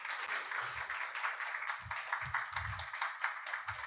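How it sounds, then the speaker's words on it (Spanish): A church congregation claps warmly for first- and second-time visitors during a Sunday worship service, a steady wash of applause running throughout with a few low thumps underneath. "Un fuerte aplauso."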